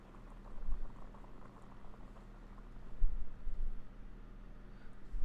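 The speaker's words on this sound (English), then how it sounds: "I'll boil some water." Water boiling in a video game, a steady bubbling simmer with a low rumble and soft popping patter that swells a little midway, no voices over it.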